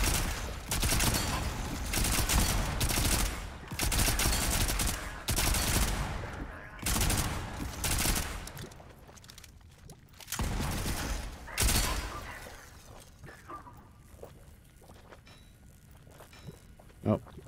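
Rapid SMG gunfire in the video game Volcanoids, loud bursts of automatic shots repeating over the first twelve seconds, then fading to sparser, quieter sounds at the end.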